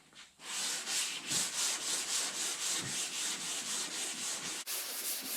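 A sanding block works steadily across a guide-coated car body panel at an angle, making close, loud abrasive strokes in an even back-and-forth rhythm with no talking.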